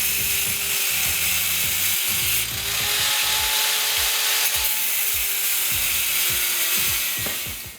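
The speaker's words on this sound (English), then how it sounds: "I'm just gonna grind these couplings about an inch, or sorry, 1/2 inch off." An angle grinder grinds about half an inch off metal couplings for a tiny house awning, making a continuous harsh, hissing whine close by. Irregular scraping and knocking sounds run underneath it.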